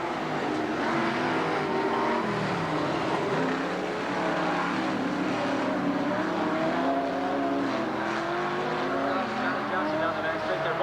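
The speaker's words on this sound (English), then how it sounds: "Trying to chase down car 24, Dean Barrs, B-A-R-E-S." Late model stock cars in a 1990 sportsman open heat race drone steadily past, a continuous layered engine roar with shifting pitches throughout, and an announcer talks over it.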